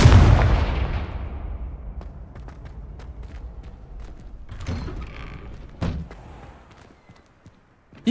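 Confringo fire spell blasts go off in Hogwarts Legacy gameplay: a loud booming explosion at the start fades into rumbling debris and scattered impacts, with another sharp blast near the end.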